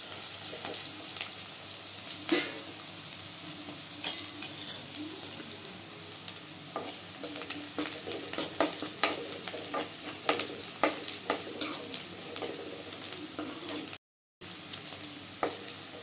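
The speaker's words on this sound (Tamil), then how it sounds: "வெங்காயம் நல்லா வதங்கட்டுங்க." Onions sizzle steadily in a hot pan while a utensil stirs and scrapes them, with a brief break near the end and no talking.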